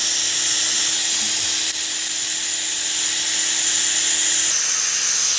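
Ammunition reloading machine running as a case moves around to the trimmer, a steady loud mechanical whir and hiss, close and continuous with no talk.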